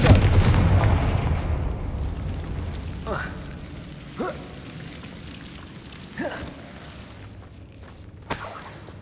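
Confringo blasting spells go off in Hogwarts Legacy, a series of sharp bursting cracks spaced a couple of seconds apart, each followed by a short crackling tail, over a fading ambient bed.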